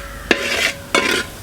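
Food being stirred in a cooking pan during a village-style chicken dish, two distinct scraping strokes over a low sizzle, close and clear, with no voices.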